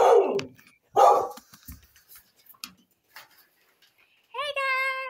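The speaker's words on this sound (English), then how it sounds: "got dogs barking" Dogs bark in two sharp, loud bursts about a second apart, followed by scattered faint knocks and a closing high whining tone.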